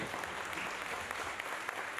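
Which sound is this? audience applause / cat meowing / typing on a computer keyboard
audience applause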